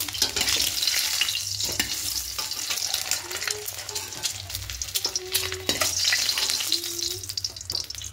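Boiled eggs frying in hot oil for a Bengali egg curry with cauliflower and potato, a continuous loud sizzle with scraping stirs and brief utensil knocks throughout, no voices.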